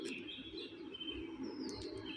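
Pet birds chirping after the room light comes on at dawn, a steady chorus of small high tweets and calls spread through the whole stretch, moderately close and soft, with no talking.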